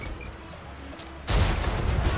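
A tank cannon shot in the World of Tanks video game ricochets off the side of an enemy E1's turret: a sudden loud, booming blast that breaks a quiet stretch and rumbles on to the end.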